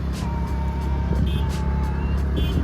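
Steady road traffic rumbles along a dusty village road during a bike ride, with passing vehicles and a couple of short horn-like tones rising over the continuous engine noise.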